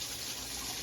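Water running through the jets of a Bosch dishwasher during cleaning, a steady close rushing gush with no pauses and no talking.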